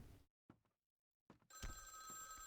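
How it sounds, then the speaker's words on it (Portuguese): A telephone rings in the Vampire: The Masquerade – Bloodlines video game, cutting in after near silence as a steady, bright electronic bell tone that continues to the end over faint game background. "Ai, telefone."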